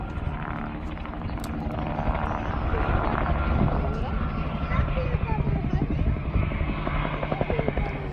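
A Bell 47 helicopter, the bubble-canopy MASH type, flies at the Parkes airshow with a continuous throbbing rotor and engine drone, loud and steady throughout.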